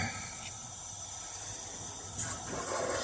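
Sicilian sfinci dough balls fry in hot oil over a medium-low flame, giving a steady, soft sizzling hiss close by with a brief louder crackle near the end, no voices.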